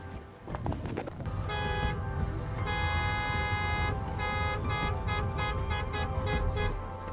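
Busy street traffic in Lima, Peru, with car horns honking again and again, some long and some short, close and loud over a constant rumble of engines.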